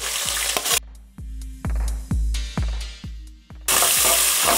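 Chopped onions dropped into hot oil with cumin, curry leaves and dried red chillies for Andhra puffed rice upma, bursting into loud sizzling frying with a series of sharp clanks of a spoon against the pan.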